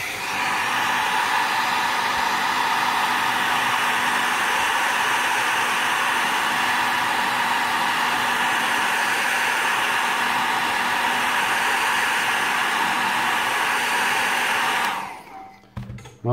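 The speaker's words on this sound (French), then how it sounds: "On va mettre un petit coup de sèche-cheveux." A hair dryer blows steadily on the decals of a 1/24 scale Fujimi Ferrari F430 Challenge model, with a loud, even whooshing roar that runs for about fifteen seconds and then cuts off.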